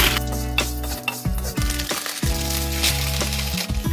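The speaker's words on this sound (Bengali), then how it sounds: "একটু লাল লাল করে সিমুইগুলো ভেজে নিতে হবে" Vermicelli fries in ghee in a pan for sheer khurma, a steady sizzle broken by repeated scraping and stirring strokes of a utensil, close and clear with no voices.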